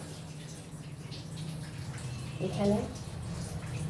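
Hands being washed under a running kitchen tap, a soft steady stream of water close by with a brief louder splash near the end, while someone speaks a word over it.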